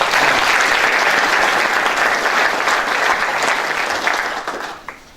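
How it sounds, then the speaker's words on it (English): An audience at a city State of the City address in Edmonds applauds loudly and steadily, the clapping tapering off over the final second with a few last claps. "Give them a round of applause."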